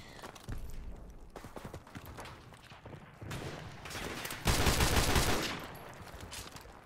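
Gunfire in a Modern Warfare Remastered gun game match: dense bursts and rapid shots run through the whole stretch, with a louder, sustained volley near the end, all at fairly low level and without speech.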